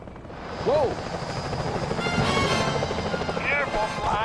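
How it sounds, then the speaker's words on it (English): Security helicopters in the Sly Cooper: Thieves in Time video game make a steady rotor drone, with game effects and a few chirps over it. "Those security choppers are bad news."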